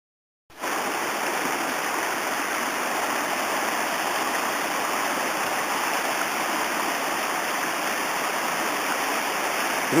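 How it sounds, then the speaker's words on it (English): A river stream rushes steadily beside a hiking trail near a footbridge, a dense, continuous broadband wash of flowing water that starts abruptly and holds at even loudness with no voices. "Now we're on a journey by the river to the bridge over to cross it."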